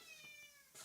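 Liza, a house cat, gives a faint, short meow with a tonal, slightly strained quality, heard close but quiet against a soft background hiss.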